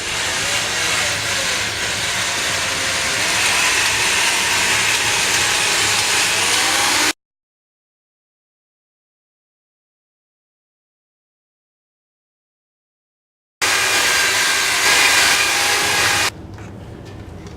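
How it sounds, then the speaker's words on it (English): An electric drill fitted with a polishing pad buffs polish onto a car headlight, a steady whirring hiss that runs continuously, breaks off into a long silence, then resumes and quiets toward the end. "Keep your drill in a clockwise method and start off slow so you get a feel for what you're doing."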